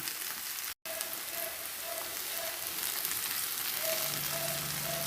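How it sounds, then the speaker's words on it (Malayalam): Okra (lady's finger) fries with turmeric and chili powder in a pan, giving a steady, close sizzle that runs throughout with a brief break near the start and a faint hum joining toward the end. "ഇതിനെ ഇളക്കി കൊടുത്ത് നമുക്ക് ഫ്രൈ ചെയ്തെടുക്കാം"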